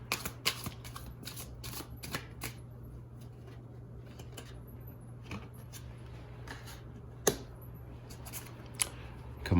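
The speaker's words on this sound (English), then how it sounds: "I continued to shuffle." Tarot cards are shuffled repeatedly, crisp riffling flutters in quick bursts over a low steady hum, with a few sharper snaps.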